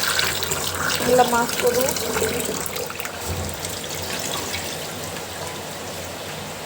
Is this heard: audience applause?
no